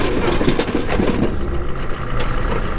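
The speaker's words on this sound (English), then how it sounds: "the fan clutch is exciting. Yeah, the engine's quieter, but the fan is loud" A loud, steady mechanical roar of a Humvee's engine cooling fan clutch fills the clip, with a rushing whoosh over a low engine rumble.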